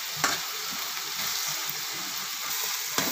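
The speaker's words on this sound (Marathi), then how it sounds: "तीन ते चार मिनटं हळद छान परतून घ्यायची।" Fresh turmeric sizzles steadily in a hot pan while being sautéed, a close, continuous frying hiss with a few soft stirring knocks.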